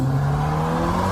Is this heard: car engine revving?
yes